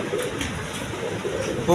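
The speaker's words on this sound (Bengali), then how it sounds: "দেখো কবুতর যে ছটপট করে" Pigeons stir and cooing carries through a pigeon loft, a short, close, steady murmur of coos and rustling with a soft burst near the end.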